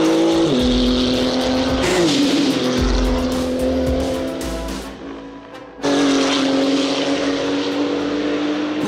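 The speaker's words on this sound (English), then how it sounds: "Let's start the engines." Porsche 935/78 'Moby Dick' flat-six race car engines fire up and run close and loud, a steady snarling drone that sags briefly, then surges back with a hard revving burst.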